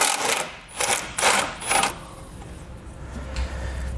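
Ratcheting 13mm socket on an extension loosening the horn bracket nut on a 2014 Chevrolet Malibu; four quick bursts of clicking ratchet sound close up, then quieter handling noises.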